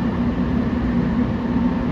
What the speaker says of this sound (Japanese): 列車は真矢駅を通過中。